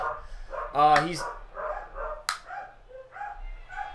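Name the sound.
dogs barking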